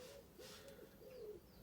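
Pigeons coo softly in the early morning beside a tent at a campsite in Poole, a few low repeated calls over faint outdoor ambience with no talking.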